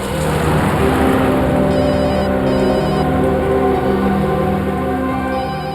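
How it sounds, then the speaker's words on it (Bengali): Loud, continuous phone ringing in a crime-drama scene, a steady electronic ring tone that fills the whole stretch with no speech over it. "আরে দয়ার ফোন"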